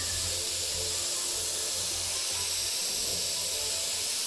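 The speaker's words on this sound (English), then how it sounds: "we're just getting an overall smooth spray" A steady, smooth hiss of an airbrush spraying continuously, with a low hum beneath it and no pauses.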